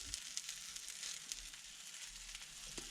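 Bread pieces frying in a pan give a steady, faint sizzle with scattered small crackles and pops, with no talking.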